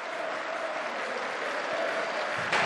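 Home supporters of IFK Norrköping cheering and applauding after a 3-1 football win over Malmö FF, a broad, loud, sustained stadium roar with no break.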